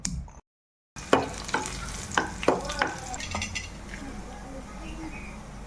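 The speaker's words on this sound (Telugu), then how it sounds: "నూనె వేడెక్కాక దంచి పెట్టుకున్న చిన్నులపాయలు వేసుకోవాలి" Crushed shallots tossed into hot oil for tempering sizzle and fry steadily after a short silence, with several sharp clinks of a spoon stirring against the pan.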